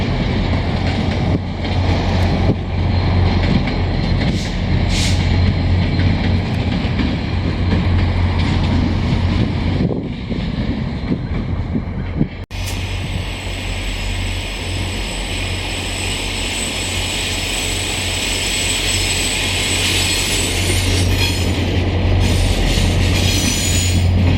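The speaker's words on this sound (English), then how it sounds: "backing up the bud cars" Via Rail Budd rail cars back up, rolling and rumbling steadily at close range in Montreal, with metallic wheel squeals and a loud clank midway before a brighter, hissing stretch.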